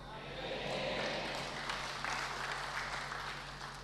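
Applause from an audience inside a church during a cleric's sermon, a steady wash of clapping held at an even level for several seconds, with some voices mixed in.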